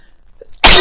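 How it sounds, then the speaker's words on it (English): A single sudden sneeze bursts out loud and close after near silence. "I just felt that sneeze come on"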